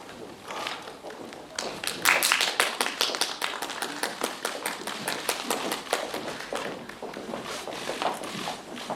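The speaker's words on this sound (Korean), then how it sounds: "따뜻한 박수로 맞아주시기 바랍니다." An audience at a film preview screening and press conference claps to welcome the director and actors, individual claps distinct and rapid, swelling after a quiet start, then continuing steadily at moderate volume.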